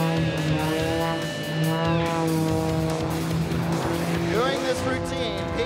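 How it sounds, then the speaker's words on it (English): A Red Bull Edge 540 aerobatic plane's engine roars at an airshow, a loud sustained tone whose pitch holds steady and then sweeps as the plane maneuvers, with a voice speaking over it. "The engine's ripping"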